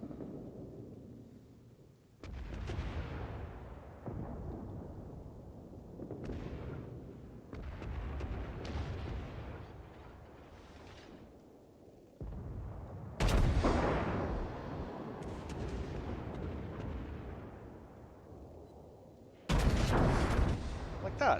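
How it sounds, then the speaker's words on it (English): Warship guns firing in a naval wargame video game, heavy booming salvos arriving in several separate bursts with a sharp onset, each one followed by a rolling rumble that decays. "Firing my guns properly. That was a nice shot."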